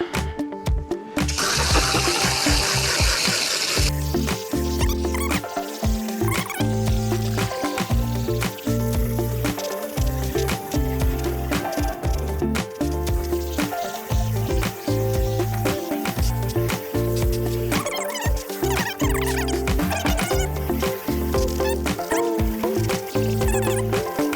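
A hose sprays water over soapy bass boat carpet, a continuous rushing wash with short breaks and shifts as the stream moves across the surface.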